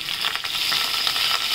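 Curry leaves crackle and sizzle in hot oil with mustard and cumin seeds for a tempering, a bright, dense spitting hiss with rapid pops, close and loud throughout.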